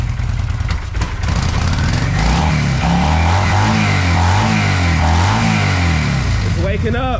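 A 1996 Kawasaki Vulcan 800 motorcycle engine runs with the choke on after sitting for years, a steady loud rumbling idle with rising and falling revs throughout, close by.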